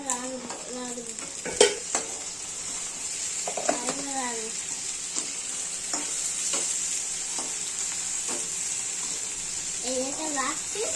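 Chopped tomatoes going into a hot pan of frying potato curry and being stirred, a steady close sizzle with scraping stirs, while a voice speaks over it at times.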